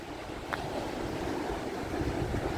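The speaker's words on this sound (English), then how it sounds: "But listen to the sound of that ocean." Ocean waves wash onto a beach after a storm, a continuous broadband surf roar mixed with wind buffeting, one brief sharp tap early on, no talking.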